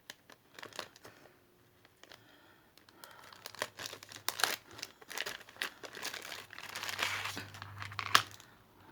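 Plastic packaging of an AliExpress parcel being torn open and crumpled by hand, with irregular crinkling bursts that grow denser and louder partway through, close by with no talk.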